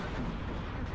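Artillery fire support in the WARNO war strategy video game, heard as a brief, heavy, rumbling boom of shelling that fills the low end throughout and is loud and close.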